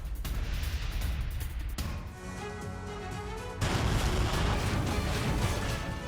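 Heavy booming blasts and crashing debris from a Russian military attack in the Russia-Ukraine war, loud and noisy, with a fresh surge of rumbling explosion noise partway through.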